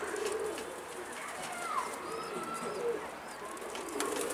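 Soft cooing of a pigeon or dove in the mid-distance, repeated a few times over a steady background murmur of outdoor noise.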